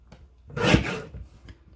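A paper trimmer slices through a sheet of cardstock, one quick close rasping cut swelling and fading within about a second, with faint handling sounds around it.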